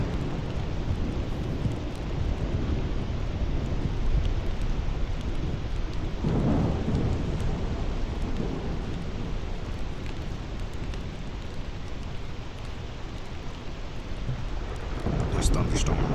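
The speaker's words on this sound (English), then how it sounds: "This thunderstorm is really bad." A thunderstorm with steady heavy rain in the swamp of a survival video game, a constant roar of rainfall with a louder rumble of thunder midway and another near the end.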